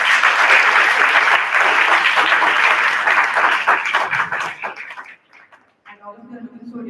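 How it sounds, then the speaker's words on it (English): A large audience at a Model United Nations event applauds loudly and steadily, then the clapping thins out and fades, with a voice starting to speak at the end. "A big round of applause for all of them."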